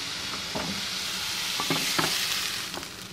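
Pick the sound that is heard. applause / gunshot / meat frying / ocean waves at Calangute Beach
meat frying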